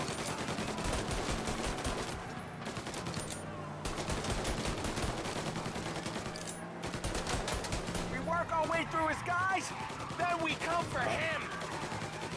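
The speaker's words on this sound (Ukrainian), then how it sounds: "Давай, ще я постріляю трішки" Gunfire in the video game Mafia Definitive Edition: rapid bursts of automatic shots crackle in dense, repeated volleys, with short pauses, amid game sounds, with a player talking over them.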